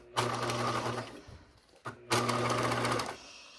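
A sewing machine stitching a caddy bag pocket, running in two loud, steady whirring bursts with a brief pause between them, close up.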